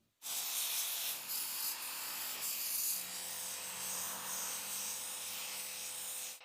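Scrubbing a crumbly concrete piece clean: a steady close, loud hissing scrub runs continuously for about six seconds, with faint scratchy texture and no talking.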